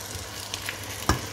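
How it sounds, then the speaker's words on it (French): Precooked meat goes into a simmering chili con carne sauce on the stove, giving a soft sizzle with a sharper splash or clatter near the end of the brief moment, close and with no talking. "on va rajouter notre viande qui a été préalablement cuite"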